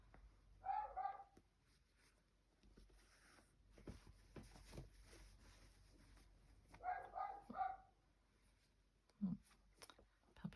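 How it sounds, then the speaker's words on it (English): A puppy barks in short bursts of a few yips at intervals, moderately close, with a quiet household background and some low thumps between. "Puppy dog."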